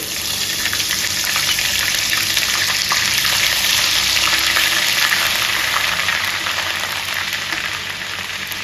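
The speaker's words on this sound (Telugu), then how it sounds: "మనం డీప్ ఫ్రై చేసుకున్న తర్వాత మిగిలిన ఆయిల్ ఉంటుంది కదండి దాంట్లోనే మనం అల్ల వెల్లుల్లి పేస్ట్ వేసుకోవాలండి" Ginger garlic paste frying in oil left over from deep-frying chicken for a pickle, a loud, steady, dense sizzle that holds for the whole stretch with no talking.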